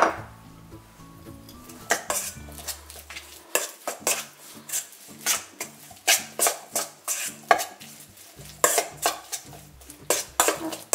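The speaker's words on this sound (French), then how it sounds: "je vais basculer dedans pour mélanger, ça sera beaucoup plus pratique" Liver, apple and banana batter for homemade dog treats being stirred in a bowl, with repeated clinks and scrapes of a utensil against the dish in an irregular rhythm, close and fairly loud, with no voices.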